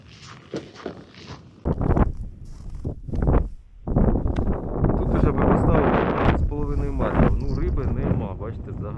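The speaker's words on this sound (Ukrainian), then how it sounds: "Тільки це вітер дує." Gusty wind buffets the microphone in low rumbling bursts while a person talks and footsteps crunch along.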